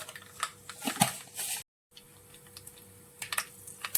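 Mustard seeds crackle and pop in hot oil in a home kitchen, with scattered sharp sputters and bursts over a steady low hiss, a brief silent gap partway, then the popping picks up again.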